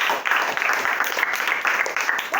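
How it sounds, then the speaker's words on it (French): Children applaud during a Sunday school worship service in a church, a dense, steady patter of many small hands clapping for about two and a half seconds with no voices standing out. "Applaudissez pour vos parents."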